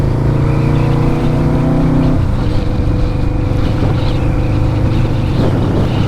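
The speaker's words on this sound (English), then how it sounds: "This VMAX, man, like, it's a 1999. It's carbureted, you know." A carbureted 1999 Yamaha VMAX motorcycle cruises along, its engine drone steady and loud under rushing wind noise.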